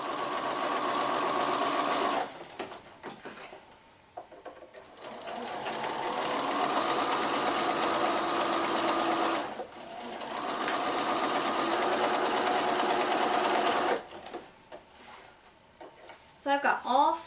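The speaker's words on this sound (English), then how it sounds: "I'm going to take them to my sewing machine, and I'm going to sew right on that marked line" A domestic sewing machine stitches quilt squares along marked lines for a snowball block, running in long steady bursts with brief pauses between seams, loud and close, with no talk over the stitching.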